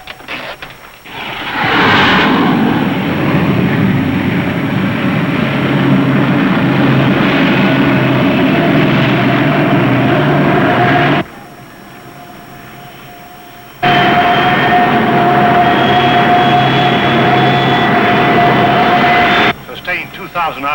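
An aircraft engine held at a steady 2,000 RPM: loud, continuous droning roar with a sustained tonal hum, dropping briefly to a lower level midway before resuming, with voices talking over it.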